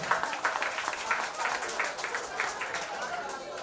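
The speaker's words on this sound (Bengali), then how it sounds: "জোরে হাততালি একবার রাকেশের জন্য" Audience applause at a felicitation ceremony for selected West Bengal police constable candidates, a continuous wash of many hands clapping at moderate level throughout.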